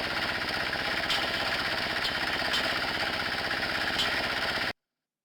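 Rapid, steady mechanical pounding from a Standard Penetration Test hammer driving a sampler into soil, loud and continuous with a regular fast rhythm until it cuts off abruptly.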